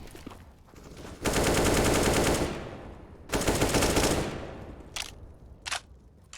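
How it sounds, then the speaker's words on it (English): Gunfire in the video game CS:GO during an IEM Sydney 2019 qualifier match, with long sustained bursts of rapid shots followed by a few sharp single cracks, loud and close with no commentary over them. "Sam peeks out with the AWP"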